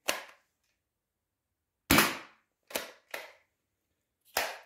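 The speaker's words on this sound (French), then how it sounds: "on va passer au test de tir" A modded Nerf blaster fires flat-tip darts one at a time, giving five sharp, snappy pops at uneven intervals with near silence between them.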